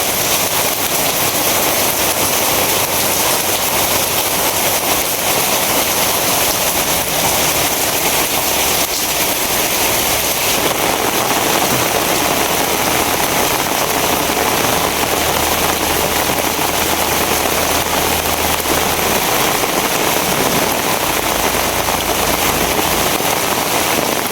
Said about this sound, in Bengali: জুমছে বৃষ্টি নামছে।